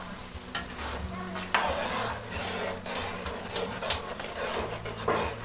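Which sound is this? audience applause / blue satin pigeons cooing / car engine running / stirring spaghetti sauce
stirring spaghetti sauce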